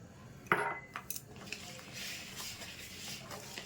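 A spoon stirring malpua batter with warm milk in a bowl gives a sharp clink early on, then softer scattered taps and scraping, quiet and close.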